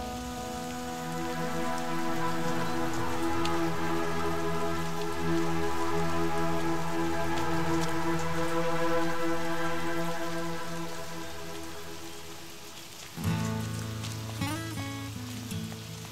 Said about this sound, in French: Venez sous la pluie.